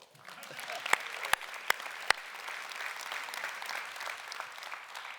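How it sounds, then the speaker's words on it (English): Audience applause at a State of the City address, a dense wash of clapping with a few sharp close claps standing out near the start, continuing steadily with some voices mixed in. "So can we give an applause for our superintendent and our school board?"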